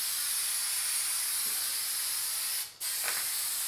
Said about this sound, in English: this right here comes out a lot thinner and more like a mist